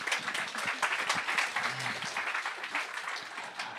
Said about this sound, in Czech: Můžete jí zatleskat klidně.